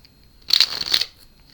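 A deck of tarot cards riffles in a brief, crisp burst of shuffling, close and fairly loud, lasting about half a second amid quiet.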